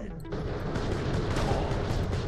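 Rapid gunfire from a weapon in the video game Borderlands: The Pre-Sequel forms a dense, continuous crackle of shots under a faint voice.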